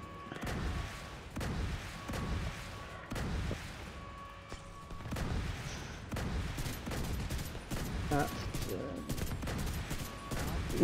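Gunfire in the video game The Division 2: repeated bursts of shots and booming impacts throughout, loud and fairly continuous with mechanical clicks and faint electronic tones mixed in.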